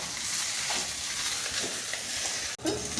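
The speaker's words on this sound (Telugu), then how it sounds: "రైస్ అంతా ఇలా మిక్స్ చేసుకోవాలి." Rice for gobi rice is stirred through in a hot pan, a steady close frying hiss with soft scraping movements and a brief dip near the end before the sizzle resumes.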